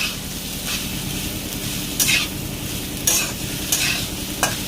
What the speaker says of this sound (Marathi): आणि इकडं असं भाजी फ्राय करायचं चाललेलं आहे.